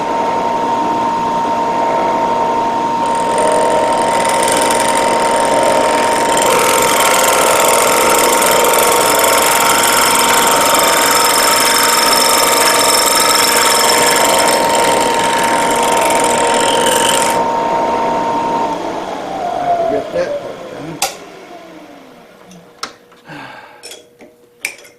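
A small drill bit whines steadily at high pitch for a long stretch drilling metal for a mini vise, then spins down and stops, followed by a few sharp metallic clicks.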